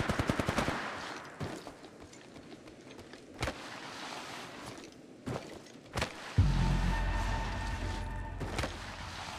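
Gunfire in the mobile shooter Apex Legends Mobile: a rapid burst of automatic shots up front, then scattered single sharp cracks, ending in a heavy rumbling blast with lingering mechanical whine.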